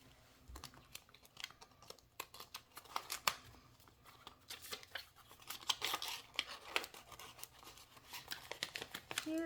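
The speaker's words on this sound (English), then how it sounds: "let's go ahead and just take it out and fold it." Paper cash envelopes are handled, pulled open and folded: close, quiet crinkles, rustles and sharp paper snaps in irregular bursts that grow busier toward the end, with no talking.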